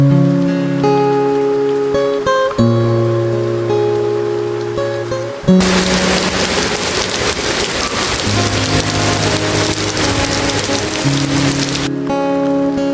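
Heavy rain at a river at night suddenly swells into a dense, loud roar drumming on a surface, with steady tonal sounds underneath before and after the downpour.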